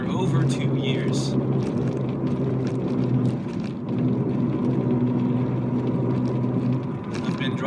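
Inside an old 1992 Vectra on the move, a steady low engine and road drone fills the cabin, with a voice murmuring over the rumble.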